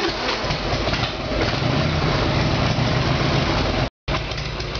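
A Harley-Davidson Evolution Sportster 1200 with a carburetor problem runs at a steady idle, loud and close, with a constant low rumble. The engine briefly cuts out near the end and then continues.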